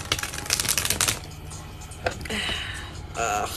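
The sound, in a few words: shuffling tarot cards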